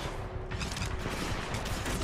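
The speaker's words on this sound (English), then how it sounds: "The vortex shield catches incoming rounds and missiles." A Titan's vortex shield in Titanfall 2 catches incoming rounds, a dense, continuous barrage of game gunfire that stays loud and steady throughout.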